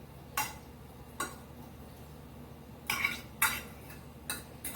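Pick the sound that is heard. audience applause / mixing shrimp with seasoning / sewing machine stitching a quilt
mixing shrimp with seasoning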